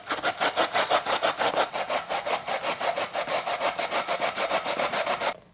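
A small beet is grated by hand in a steady, rapid rhythm of rasping strokes, each scrape loud and close, with no talk over it.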